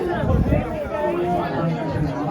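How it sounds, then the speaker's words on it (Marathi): A dense crowd at Dwarka temple chattering, many overlapping voices forming a close, continuous babble with no pause. "फुल गर्दी आहे"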